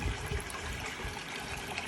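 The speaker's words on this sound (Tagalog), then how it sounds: "gamit na gamit yung kanal nila. Oh, daming tubig sa loob." Water flowing through a drainage canal in Japan makes a steady, close rushing and trickling hiss that stays even across the brief moment, with no voices.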